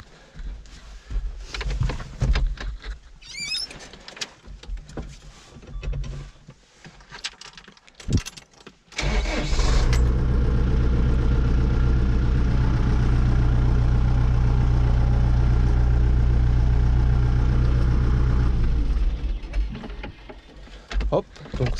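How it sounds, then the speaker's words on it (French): Keys jangle and rattle amid handling noises, then a heavy farm tractor engine starts up and idles steadily and loudly for several seconds before easing off. "je vais démarrer le tracteur"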